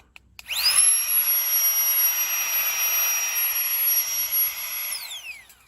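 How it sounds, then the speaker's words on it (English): A Flextail mini electric air pump, USB-charged, whirs up to a high, steady whine while inflating an airbed at a snowy riverside campsite, holding a loud, even pitch for several seconds before spinning down. "It's the Flextail mini pump"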